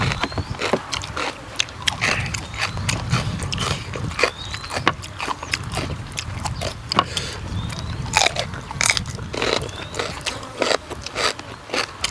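Crunchy giant octopus tentacles chewed with seafood dipping sauce, giving rapid repeated crisp crunches and bites close to the mic, steady and continuous throughout.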